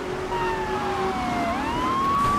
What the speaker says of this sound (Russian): откуда ни возьмись, появились несколько полицейских машин